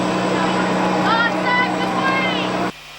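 Jet engines of an Air Force VIP Boeing 707 roar loudly and steadily as the aircraft departs, a sustained broad rumble with a rising whine, cutting off abruptly near the end.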